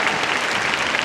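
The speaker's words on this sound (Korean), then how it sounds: "자신 있는 홍경 배우님께 뜨거운 박수 부탁드리겠습니다" Audience at a Busan International Film Festival open talk applauds actor Hong Kyung, a dense, steady wash of many hands clapping at once, loud and sustained throughout with no talk over it.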